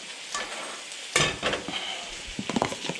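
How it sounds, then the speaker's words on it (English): Butter melting and sizzling in a frying pan as bread fries, a soft hiss broken by clattering stirs and scrapes of a utensil against the pan, one sharp louder knock midway, no talking. "I'm going to throw a bit of butter in this"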